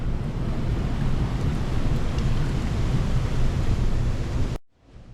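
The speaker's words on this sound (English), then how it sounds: "we've got quite a torrent through there" River torrent on the River Slea running much higher than usual, a loud, continuous rush of water that cuts off abruptly near the end.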